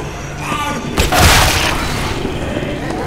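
A Molotov cocktail is thrown in a realism-mode shooter video game, hitting with a sudden loud whooshing burst of flame that settles into a steady roaring burn for a few seconds.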